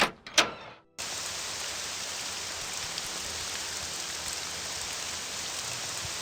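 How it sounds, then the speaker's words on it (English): Heavy rain falls steadily in the game Morrowind, a dense, loud hiss that begins after a second of brief other sounds and continues unbroken to the end. "Still raining. I was hoping to get out of the rain."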